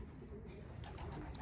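A racing pigeon arrives at the loft during a one loft race, cooing and bird calls close by over a busy, rumbling background.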